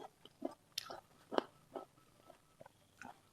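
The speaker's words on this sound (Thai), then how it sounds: "กัดเข้าไปมันแตกเนี่ย" Crisp crunching bites repeat at an irregular pace, close to the ear, each one a short sharp crackle against a quiet background.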